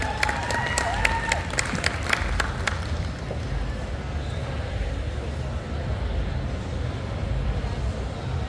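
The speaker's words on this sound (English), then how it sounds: "Round of applause for Miss Lexi." An audience at a tattoo convention pinup pageant applauds a contestant, with steady clapping and a few cheers mixed in that hold at an even level from start to finish.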